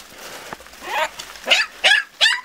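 Small dogs bark and yip in quick succession, several sharp barks close by, growing louder toward the end with little else around.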